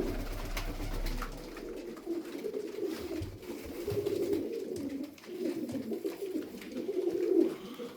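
Tumbler pigeons coo in a loft, a low, soft, repeated burbling that swells and fades continuously, close by and fairly quiet, with faint rustling and no talk.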